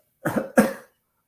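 Two quick coughs in a row, close and fairly loud, followed by silence.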